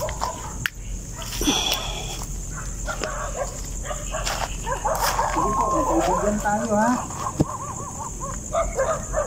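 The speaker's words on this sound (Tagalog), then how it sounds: "Ang ingay ng mga aso mo." Dogs bark intermittently in the background while people talk over them, with outdoor ambience throughout.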